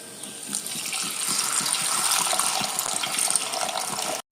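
Steady pouring water runs for several seconds into a cooking pan, 2.5 cups for a raw mango rasam, a continuous gushing splash with no talking over it.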